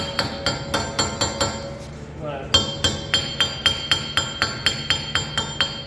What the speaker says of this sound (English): We're gonna use a hammer, tap it in place.